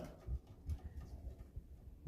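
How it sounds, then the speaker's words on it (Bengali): Pigeons coo in low, soft throaty bursts, several overlapping calls repeating close by in a quiet enclosed space. "এটা হচ্ছে আমার নতুন কবুতরের খামার"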